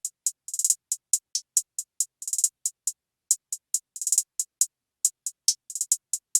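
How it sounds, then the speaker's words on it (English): Crisp trap hi-hats from a beat play alone in a steady one-bar pattern, bright ticks with occasional fast rolls and stutters, thin and close with no low end. "I moved on to the hi-hats, which sound like this."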